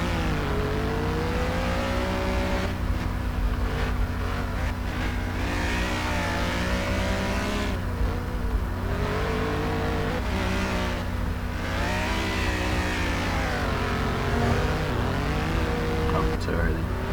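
Powerful car engine in the street racing game Midnight Racing: Tokyo, droning steadily and rising and falling in pitch through repeated revs and drifts, loud and continuous with talking over it.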